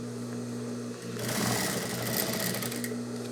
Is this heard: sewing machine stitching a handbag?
yes